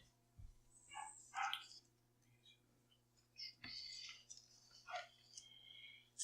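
A dog barks in the video game Sweetwater, a few sharp, piercing barks spread over several seconds against a low steady hum and faint ticking, with no talk.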